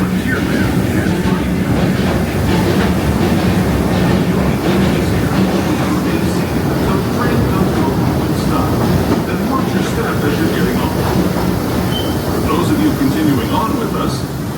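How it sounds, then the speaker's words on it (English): A Disneyland Railroad train rolls steadily along its rails near New Orleans Square Station, a continuous loud rumble with clickety-clack wheel noise throughout, while a recorded announcement voice speaks over it. "Kindly remain seated until this train has come to a full and complete stop."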